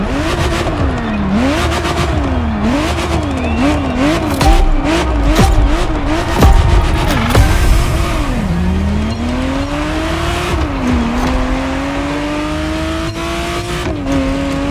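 Ferrari Testarossa engine in The Crew Motorfest racing game, revving up and down repeatedly through gear changes, then settling into long rising pulls, loud and continuous with brief tire squeals.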